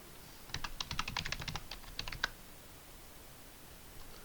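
A burst of rapid keystrokes on a computer keyboard while a Linux package-install command is entered, about twenty close, crisp clicks over two seconds followed by quiet.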